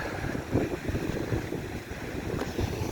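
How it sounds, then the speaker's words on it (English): Steady moderate north breeze gusting around 10 mph at Corralejo beach in Fuerteventura, buffeting the microphone with a continuous low rumble and a few stronger gusts, with no voices. "Today is a moderate breeze coming from the north, gusting 10 mile per hour winds."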